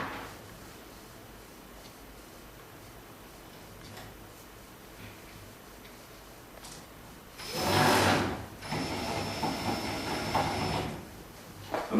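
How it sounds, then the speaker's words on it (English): A power driver sinks screws through a stepper motor mount on a 2x4 rail carriage CNC table. After a quiet stretch of handling noise, a short whirring burst comes, then a longer, steady close-up run. "I'm just going to put 2 screws in it just so we can speed this up a little bit."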